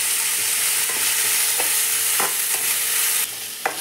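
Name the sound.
chicken masala frying in a pan with ginger garlic paste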